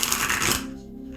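A brand new, slightly sticky tarot card deck is riffled and shuffled in the hands, a quick dense ruffle of cards close up that stops abruptly, leaving quiet room tone.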